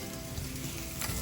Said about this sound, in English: Frying some of it up.